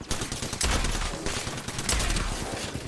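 In a video game, an R99 submachine gun empties a full magazine in rapid, continuous automatic fire, loud and dense, with heavy low booms and a short break in the middle.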